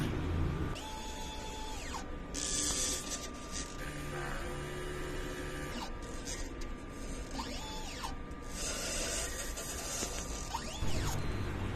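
DTF printer running a print head cleaning cycle, a steady electrical hum under whirring motors, ratcheting gear clicks and rising and falling mechanical sweeps as the carriage and pump move.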